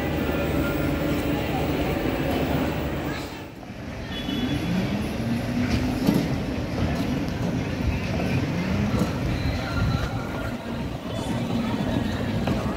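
A train rolls steadily at a campus in Siliguri, a continuous rumbling clatter with a short dip partway through. Voices and gliding tonal sounds carry over the running noise.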